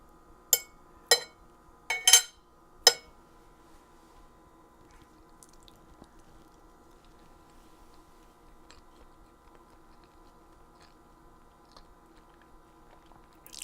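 Chewing on soft boiled taro, four close crunchy bites bunched in the first few seconds, then near silence with a faint hum.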